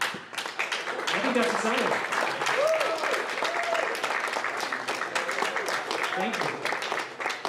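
Enthusiastic clapping from an audience during an engineering live stream, a steady patter of hands running throughout while a person speaks over it.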